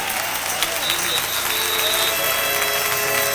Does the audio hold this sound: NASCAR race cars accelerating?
no